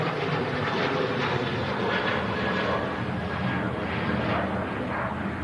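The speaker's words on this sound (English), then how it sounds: "There goes a Ryanair 737-800." A Ryanair Boeing 737-800 jet passes overhead at a plane-spotting spot, its engines making a broad, continuous roar that holds steady and fairly loud across the whole stretch, with no talk.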